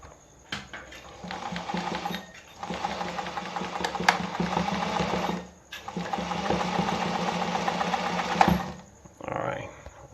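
A Pfaff 260 sewing machine stitching a design runs in two long steady whirring bursts with a brief pause between, its rapid needle rhythm loud and close, then a short quieter run at the end.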